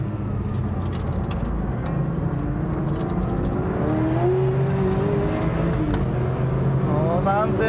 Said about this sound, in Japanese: GT2 を抜いて土屋 F40 2位へ浮上